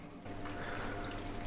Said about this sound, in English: So here we go, just a rinse of that water